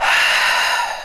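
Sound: forceful exhale with throaty breathing noise

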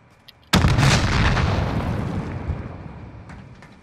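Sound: explosive charge detonating in a video game

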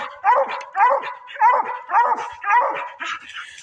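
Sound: bluetick coonhound barking at a treed raccoon

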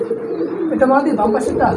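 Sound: pigeons cooing

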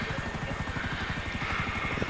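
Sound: helicopter flying nearby in a video game

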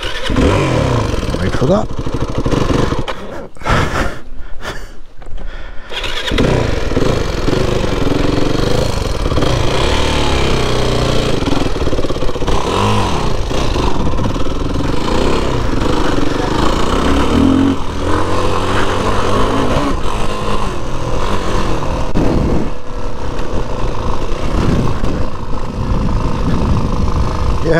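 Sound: motorcycle passing and revving on road

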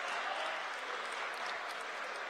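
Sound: St. Peter's crowd cheering at a basketball game

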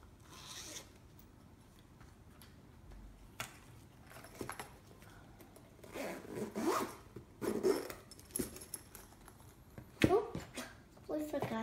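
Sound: small zipper on a stationery pouch being opened

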